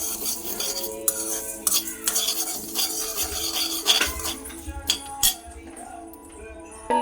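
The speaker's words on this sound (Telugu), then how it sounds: "ఆవాలు, దాల్చిన చెక్క ఒకటి, దీన్ని ఇప్పుడు దోరగా ఫ్రై చేసుకోవాలి." Mustard seeds and a cinnamon stick fry in a pan, heard as a busy clatter of a utensil against metal over a low sizzle, close by, with faint sounds in the background.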